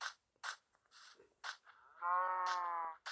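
A video game cow moos once, a long low drawn-out call near the end, preceded by short bursts of other sounds with quiet gaps between.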